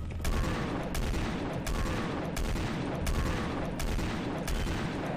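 A rocket launcher in Quake fires in a steady rhythm of about seven blasts, each cracking out over a dense, constant roar of in-game combat noise.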